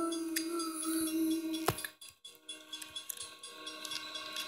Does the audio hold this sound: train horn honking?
yes